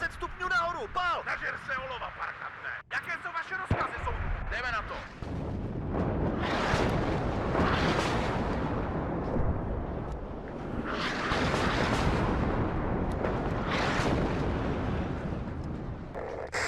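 Mortar fire and explosions in the WARNO combat game, a dense roar of repeated blasts and rumbling impacts after an opening stretch of radio chatter and voices, with talk continuing over the din.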